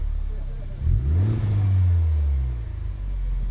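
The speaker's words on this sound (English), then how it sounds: "At lower loads, the exhaust is directed out of all 3 pipes, with that middle pipe acting like a resonator, making the exhaust note a little more throaty." A 2017 Honda Civic Type R engine swells in a single rev that rises and eases off, its exhaust note coming through three pipes with a throaty, resonant low rumble close by.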